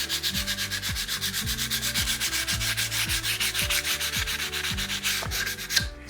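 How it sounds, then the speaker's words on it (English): Steady back-and-forth sanding strokes on wood, loud and close, in a regular rhythm of about two strokes per second with no talking. "we're gonna sand in the same direction of the grain"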